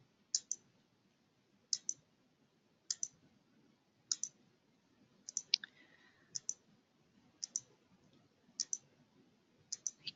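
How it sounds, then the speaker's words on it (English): A computer mouse clicks over and over while a page is refreshed in floor-plan software. Sharp paired clicks come at a steady pace about every second, close and crisp against a quiet room. "So you just keep clicking refresh to see the finished plan."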